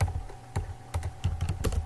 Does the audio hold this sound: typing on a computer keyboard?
yes